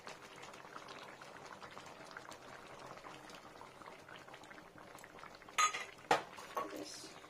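A pan of egg and pointed gourd curry with garam masala and a little added water simmers softly and steadily, a faint low bubbling, with a couple of sharp utensil clinks near the end.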